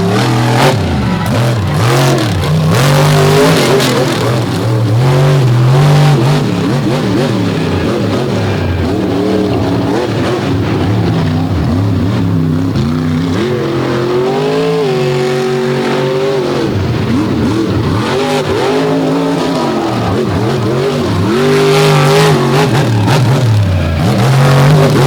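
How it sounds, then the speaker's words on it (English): A monster truck's huge engine revs hard again and again at a 2023 monster truck show, loud and close, its roaring pitch climbing and dropping in repeated surges through most of the stretch. "Absolutely huge as he RPMs that engine."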